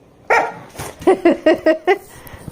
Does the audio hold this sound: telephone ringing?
no